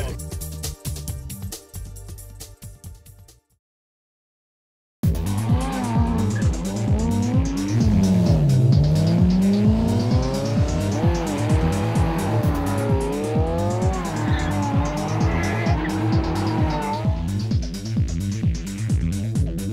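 Ferrari cars race at a sprint and hill climb event. First comes a brief burst of engine noise, then a short silence, then a loud, close, sustained engine roar that rises and falls through gear changes, with tire squeal.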